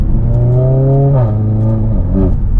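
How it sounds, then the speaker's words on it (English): A tuned 500 bhp Stage 2 Mercedes-AMG A45 S engine hums steadily and climbs in pitch, dipping briefly between gears before rising again, heard from inside at close range. "What the car sounds like."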